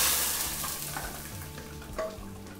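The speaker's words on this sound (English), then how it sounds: "Now our potatoes have fried up to a nice golden brown." Potatoes fry in oil in a pot for Filipino beef asado, a constant bright, crackling hiss with occasional soft pops, fairly quiet and steady, no voices.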